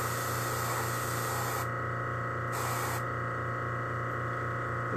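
An airbrush sprays paint over a stencil on sunset kitten bag parts: a steady close hiss with a soft mechanical hum beneath, unbroken for the whole stretch, no talk.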